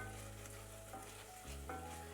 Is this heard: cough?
no